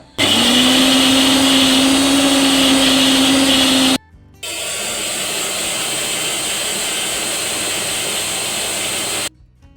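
An electric mixer grinder whirs loudly, grinding ginger and green chilies into a paste in two bursts: a high, strained roar for about four seconds, a short pause, then a second steady run of about five seconds before cutting off.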